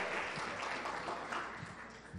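An audience at an alternative medicine talk welcomes a doctor with steady applause. The clapping fades slightly toward the end and no one speaks over it.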